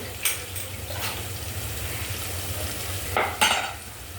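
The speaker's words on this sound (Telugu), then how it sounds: "ఉల్లిపాయలు, అల్లం వేసి కాసేపు ఎర్రగా వేగనియాలి." Onions and ginger frying in a pan for brinjal fry, a low steady sizzle with a few brief spoon scrapes, heard up close without talk.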